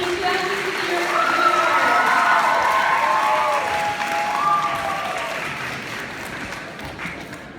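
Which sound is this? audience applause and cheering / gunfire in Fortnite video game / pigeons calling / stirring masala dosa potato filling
audience applause and cheering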